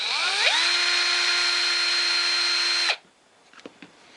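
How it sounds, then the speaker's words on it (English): A power drill whines loudly and steadily while drilling out an engine part, spinning up at the start, then cutting off abruptly after about three seconds and followed by a few faint clicks. "I'm gonna drill this out"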